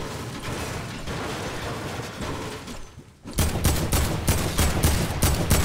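Rapid gunfire in a video game, a dense burst of rattling automatic shots that starts abruptly after a quieter mechanical stretch, loud and close.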